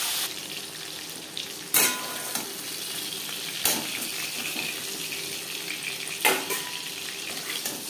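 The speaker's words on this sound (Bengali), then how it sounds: "জ্যান্ত মাছ আমি একটু হালকা করেই ভেজে নেব।" Small tangra fish fry lightly in a pan with a constant hiss of oil close by, and three sharp clatters of a utensil against the pan cut through it.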